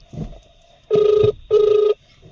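An outgoing phone call rings unanswered through the handset: two evenly spaced ringback tones, each lasting about half a second, separated by a short gap, with faint muffled sounds just before.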